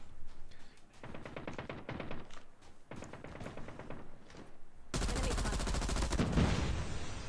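M16 fire in Call of Duty Mobile, several tight bursts of rapid shots separated by short pauses, followed by a denser, louder stretch of continuous firing and noise.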